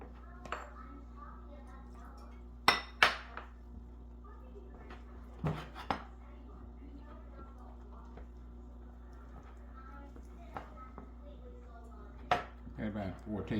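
Pound cake batter with butter and French vanilla coffee creamer is mixed in a bowl, the utensil knocking and scraping in sparse, uneven clinks over a low steady hum.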